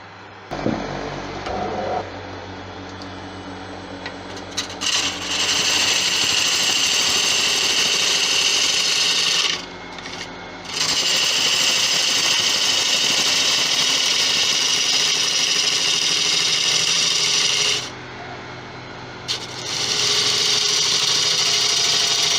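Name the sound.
lathe tool cutting resin in a tigerwood bowl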